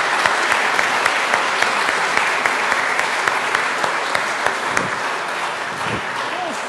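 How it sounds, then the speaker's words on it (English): Sustained audience applause fills a church worship service, a dense, steady wash of many hands clapping at close range that holds throughout, with faint voices mixed underneath. "Let's give them an applause."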